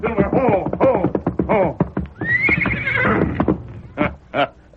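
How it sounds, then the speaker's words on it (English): Silver, the Lone Ranger's horse, gives a loud, close whinny, a long rising-and-falling neigh following a run of snorting, breathy pulses, with a few short bursts after it. "At the sound of an approaching horse, he jumped to his feet"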